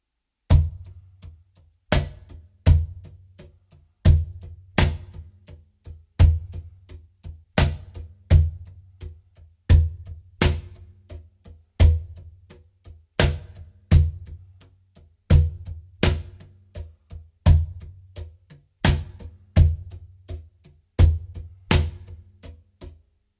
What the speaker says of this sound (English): This is similar to groove number 3, but now we add an extra bass accent in the 2 end of the bar.